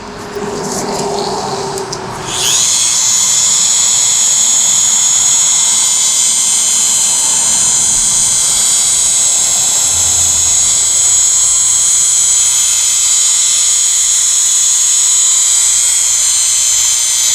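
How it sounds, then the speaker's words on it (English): Electric car polisher buffing the paint of a brand-new 2024 GMC Denali, a loud steady high-pitched whine starting after a short softer opening and running unbroken to the end, close up with no talking. "Just letting the polisher do all the work."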